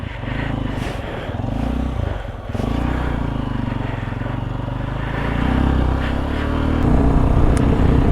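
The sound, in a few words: Hero Xpulse 200 motorcycle riding on to Leh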